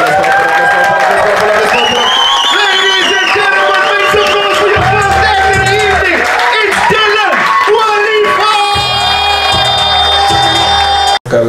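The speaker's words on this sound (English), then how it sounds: "start the round of applause" Crowd at a live backstage comedy show cheers, whoops and claps loudly and steadily over music, a dense continuous roar that holds for about eleven seconds before cutting off abruptly.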